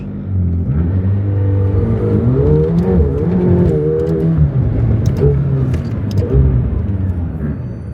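A McLaren 720S engine roars close by during a launch, pitch sweeping upward through gear changes as it accelerates hard, loud and steady throughout.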